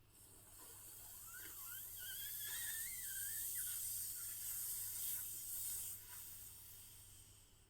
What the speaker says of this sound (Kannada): ಈಗ ಒಂದು ಶೀತಕಾರಿ ಅಭ್ಯಾಸವನ್ನ ಮಾಡೋಣ